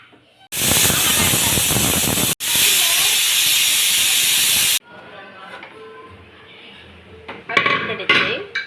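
A pressure cooker of sambar on a kitchen stove vents steam in two loud, sustained hissing bursts, separated by a split-second break. Then quieter kitchen clatter and faint sounds follow.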